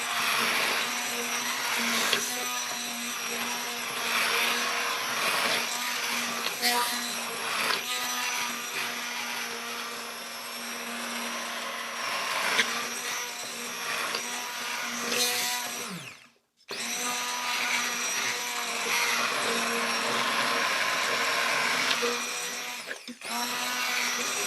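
A blender runs on its turbo setting, pureeing vegan lasagna ingredients including carrot, with a steady loud motor whir for about sixteen seconds, a brief stop, then a second equally loud run.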